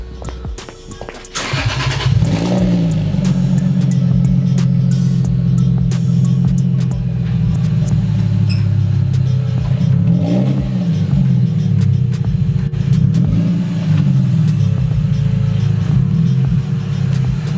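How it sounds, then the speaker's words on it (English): An engine cranks and catches, then idles too low with a low, steady rumble, dipping and surging a few times as if struggling to stay running. "The car is like idling way too low"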